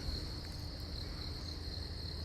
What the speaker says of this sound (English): enjoy crickets